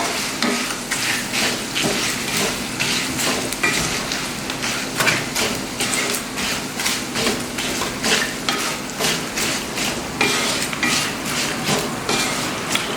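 Chicken being stirred in a pan for Kerala-style pickle, with a steady crackling sizzle and repeated rhythmic scraping strokes of a spoon throughout, loud and close.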